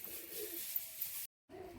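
A pair of gola-line Madras pigeons coo softly and steadily at close range, a low murmuring sound broken by a short stretch of total silence before resuming.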